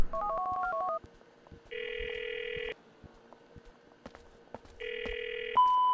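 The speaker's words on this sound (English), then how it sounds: "Just gonna make a couple phone calls, man, before I end this game." A phone call in GTA 4: a short burst of dial tones, then two long electronic ringing tones separated by a pause, with a brief click at the end and no speech.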